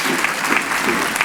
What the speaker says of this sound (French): C'est pour toi les applaudissements.